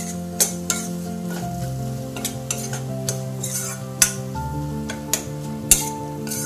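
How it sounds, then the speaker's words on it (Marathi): Paneer bhurji with garam masala frying in a pan while being stirred, with a steady close sizzle and scattered sharp clinks of a spoon against the pan; background music plays throughout and no one speaks. "हलवून घेऊयात।"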